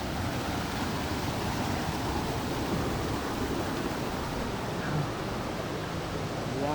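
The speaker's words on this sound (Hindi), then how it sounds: "यहाँ से झरना काफ़ी सुंदर दिख रहा है।" Sikidiri waterfall in Sikidiri valley, heard as a steady, broadband rush of falling water that stays constant and fairly soft throughout, with no other sounds.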